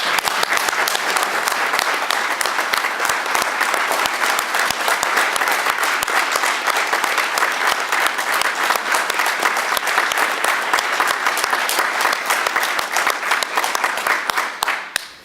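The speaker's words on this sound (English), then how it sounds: "let's have a resounding round of applause for all of our employees, excellent, volunteers, and everybody." Standing ovation at a Shaftsbury town meeting, a loud, sustained wall of clapping from a large crowd for about fifteen seconds before it tapers off, with a faint murmur beneath.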